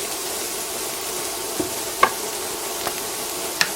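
Carrots and onion fry in a pan with a soft continuous sizzle, while a few light clicks and scrapes of stirring stand out now and then. Quiet and even, with no voices.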